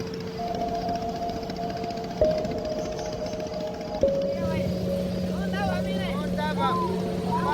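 A boat travels along a river in the Amazon, its engine giving a steady, moderately loud drone for the whole stretch. Voices are heard over it.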